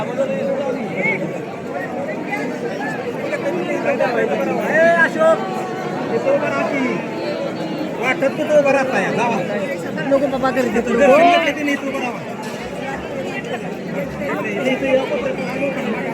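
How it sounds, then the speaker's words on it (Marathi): Dense crowd hubbub from pilgrims gathered at the main gate of the Vitthal temple, a steady, loud babble of many overlapping voices that runs throughout without a break. "एवढी अशी गर्दी आहे बघा."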